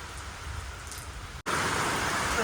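Rain falls steadily in a broadband hiss that cuts out for a moment, then returns louder and denser, close by outdoors.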